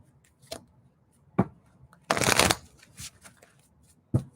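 Mini tarot card deck being shuffled by hand, a few sharp riffling and tapping bursts with one longer riffle in the middle, close and fairly quiet with no talk over it.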